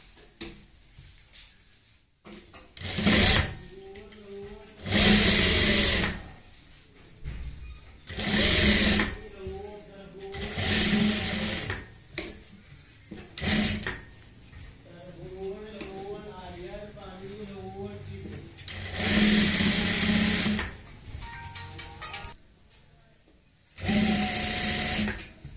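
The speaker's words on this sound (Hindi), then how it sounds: "इसके बाद हम एक सिलाई सिलाई के ऊपर लगाएंगे" An electric sewing machine stitches a neckline on printed fabric in repeated bursts of fast whirring, separated by pauses, with a person talking between and over the runs.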